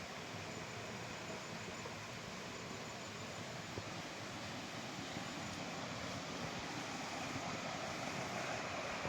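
A waterfall and mountain stream on the Srikalahasti hill rush as a steady, broadband roar. The flowing water is faint and constant with no talk.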